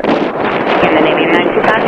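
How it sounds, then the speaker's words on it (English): Strong wind gusting up to 19 knots at Dulles airport, a loud, steady roar of buffeting wind noise across the microphone with no clear break. "We've had disgusting winds up to 19 knots"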